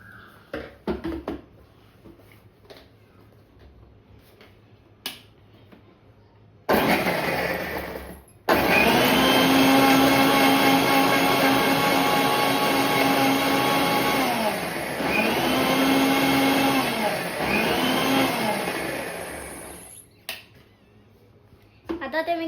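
A blender whirs loudly for about twelve seconds making muskmelon juice, its motor pitch dipping and recovering twice, with quiet clicks and handling noises before and after.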